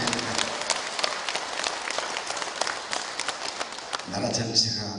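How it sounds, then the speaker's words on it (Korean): A crowd at a Buddha's Birthday ceremony at Jijang Seonwon temple applauds, a dense, steady patter of many hands that carries on for about four seconds and then trails off, with a voice audible around it. "박수 한번 주시면 어떻겠습니까?"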